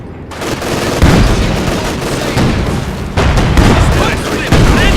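Heavy artillery and gunfire rumble through a Company of Heroes 2 3v3 battle, with a series of loud booming impacts landing every second or so over constant crackling combat noise and occasional game voices.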